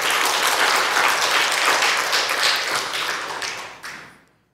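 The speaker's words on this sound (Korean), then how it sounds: "우리 청년들이 저러는데 박수 한번 쳐요." A church congregation gives steady, dense applause at a Sunday afternoon service after the young people's praise singing, loud and sustained for about four seconds before tapering off, with no voices over it.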